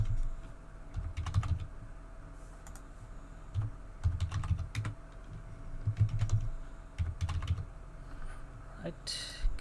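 Typing a password on a computer keyboard while installing Ubuntu in a Hyper-V virtual machine on Windows 10, scattered clusters of close key clicks with pauses between them over a low background hum.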